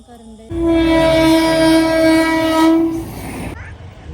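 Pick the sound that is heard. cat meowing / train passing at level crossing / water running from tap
train passing at level crossing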